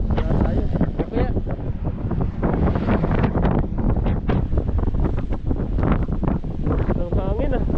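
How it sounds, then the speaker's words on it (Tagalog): Strong storm wind buffets the microphone in loud, rumbling gusts, with people talking underneath. "Tapos binabagyo kami oh."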